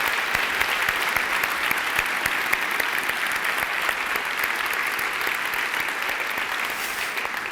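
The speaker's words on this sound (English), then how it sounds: "Let's give her another warm round of applause and thank you." Audience applause for Sally Jewell, CEO of REI, at a speaker event: steady, dense clapping from a full room, sustained and even throughout with no pauses.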